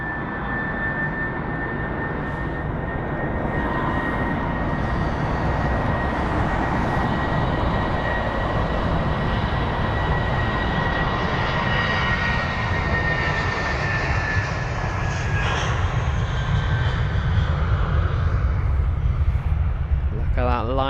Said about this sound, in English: We'll see the A320 pass by though.